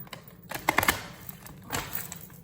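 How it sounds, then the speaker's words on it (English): Thick tarot cards being shuffled, a quick cluster of dry papery riffles and slaps followed by a second brief flurry, close and fairly soft. "I love these cards, but they are so difficult to shuffle because they're so thick"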